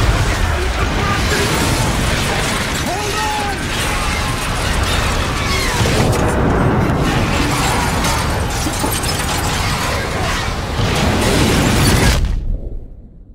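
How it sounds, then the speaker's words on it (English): An unstable Star Wars-style death ray fires and blows apart in a Call of Duty game: a long, dense wall of crackling blasts, mechanical clatter and shattering debris, loud and continuous before cutting off abruptly. "I know that this is a highly unstable death ray that could collapse at any moment"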